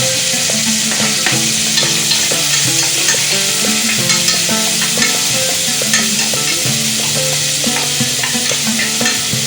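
Onion, tomato and a pinch of asafoetida fry loudly in a pan, with a constant close sizzle under rhythmic scraping and stirring.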